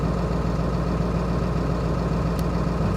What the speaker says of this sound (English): that should be our high idle right there